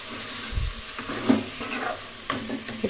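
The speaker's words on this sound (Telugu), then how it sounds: "ఇక్కడ దీంట్లోకి ఒక 3 ఫైన్లీ చాప్డ్ టమాటోస్ వేసేసుకుందాం. బాగా మిక్స్ చేసేసి" Chopped tomatoes stirred into a mutton curry frying in a pan, with a steady sizzle and a few soft scraping stirs and a low thump near the start.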